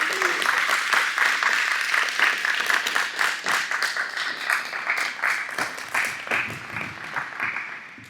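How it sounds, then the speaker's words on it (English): A studio audience applauds a podcast guest, with dense, steady clapping from many hands that gradually thins toward the end. "Come on, big round of applause."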